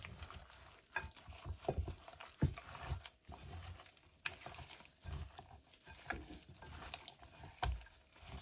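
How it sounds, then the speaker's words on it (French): Spices, onion and olive oil being stirred and kneaded together by hand: soft, wet squelching and scraping at close range, in irregular strokes with no talk. "je vais bien mélanger le tout. Donc les épices avec l'oignon, l'huile d'olive."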